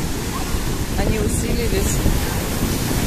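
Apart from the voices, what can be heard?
sea waves at beach in Nikolaevka, Crimea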